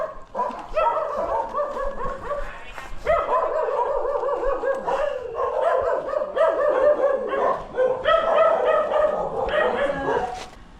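Several dogs bark and yip in quick overlapping bursts, fairly close and persistent, with occasional whimpers between barks and a voice faintly audible beneath.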